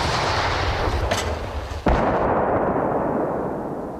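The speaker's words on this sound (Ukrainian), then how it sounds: "57-мм зенітно-артилерійська гармата" A single heavy shot from a 57 mm anti-aircraft gun near Bakhmut booms out sharply, followed by a rolling, fading rumble and echo over steady background noise.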